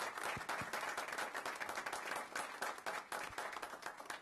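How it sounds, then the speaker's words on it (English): An audience at a Board of Governors meeting gives a steady round of applause for award winners, a dense, continuous wash of clapping heard from a distance and fairly faint throughout. "Let's have one more round of applause for all of our award winners"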